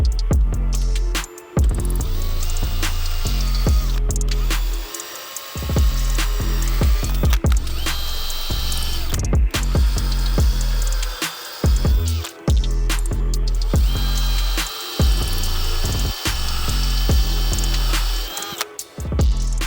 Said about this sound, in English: we're going to take our drill and drill bit and drill the 3 holes